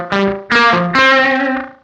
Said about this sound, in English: So it kind of sounds like a room reverb more than a delay.